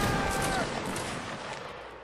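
A musket volley fired in a Napoleonic Wars battle game, heard as a dense, loud burst of overlapping shots that rolls on and slowly fades over about two seconds.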